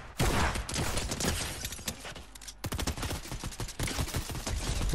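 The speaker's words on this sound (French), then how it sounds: "on me tire dessus" Gunfire in a Fortnite Chapter 4 Season 2 Zero Build match: rapid bursts of sharp automatic shots, loud and close, in two volleys split by a brief lull.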